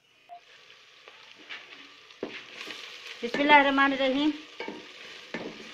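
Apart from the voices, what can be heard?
onion frying in a pan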